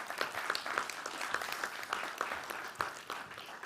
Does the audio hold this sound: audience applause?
yes